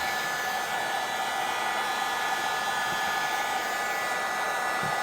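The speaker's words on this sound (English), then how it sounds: "I'm going to heat up my epoxy for just about 30 seconds" Hot air from a heat tool warming epoxy resin for a glittery mermaid-scale project, a steady, even blowing whoosh lasting throughout at constant level, close and alone with no talking.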